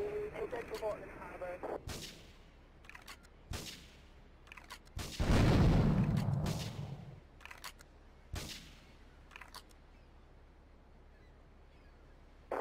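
Sharp gunshots crack at irregular intervals in the game GTA 3, with one longer rumbling explosive blast in the middle; loud, reverberant, and no voices heard.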